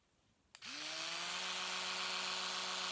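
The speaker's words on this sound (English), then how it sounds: "Sounds like a drill. Is actually an electric toothbrush." An electric toothbrush clicks on and settles into a loud, steady, high-pitched motorized buzz that holds unchanged to the end, close and with no voices.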